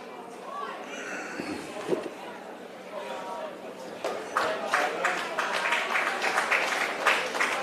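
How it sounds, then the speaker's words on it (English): Warm crowd applause at a women's rugby league carnival match as a player walks off the field, rising in the second half from scattered clapping to fuller applause, under continuous commentary. "Gets a warm round of applause."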